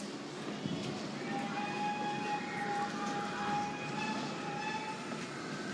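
Steady rumble of a train in motion, with a long high squeal from the wheels or rails running over it.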